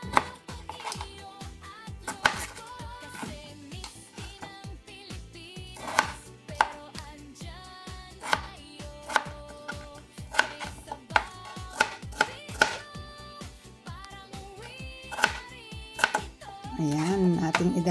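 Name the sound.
chopping potatoes with a knife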